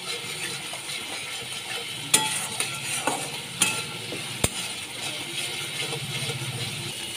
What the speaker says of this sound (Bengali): ভালো করে আমি কষিয়ে নিচ্ছি।